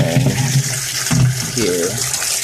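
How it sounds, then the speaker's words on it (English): Water pours and gurgles as it refills the bell of a water siphon, a steady close rushing sound. A voice talks over it in bursts. "Put the bell back on, it's filling the bell back with water"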